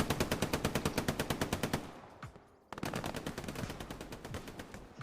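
Browning machine gun in the tactical shooter Hell Let Loose firing a long rapid burst, a brief pause, then another sustained string of loud, close, evenly spaced shots.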